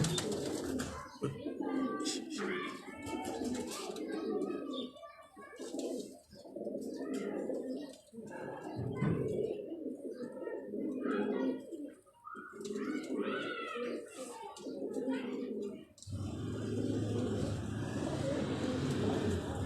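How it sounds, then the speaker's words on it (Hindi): A frightened pigeon coos in soft, repeated throaty phrases nearby, broken by short gaps, with a low rumble of traffic in the background. "लेकिन कबूतर घबरा गया है"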